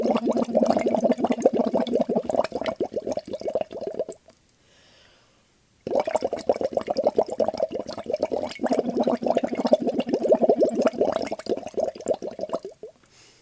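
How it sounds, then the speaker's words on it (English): A person blows bubbles through a straw into water while voicing a sustained sung note, producing a continuous bubbling burble with a steady hum, pausing briefly for a breath before a second long phrase. "start by just blowing bubbles and then let the note come in and let it come back out"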